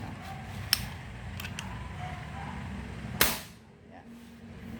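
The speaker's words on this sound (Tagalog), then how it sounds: "So malakas na yung putok niya, hindi tulad nung una." Two sharp pops from a CO2 airsoft gun, a small one early and a louder burst near the end with a hissing tail, over a low steady background hum.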